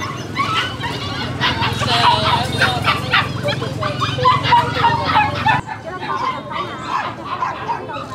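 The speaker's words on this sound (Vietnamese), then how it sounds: "Con chó này bao nhiêu tiền anh?" At a busy outdoor market, dogs bark and yip in short repeated bursts under someone talking, with crowd chatter behind and the barking thinning out near the end.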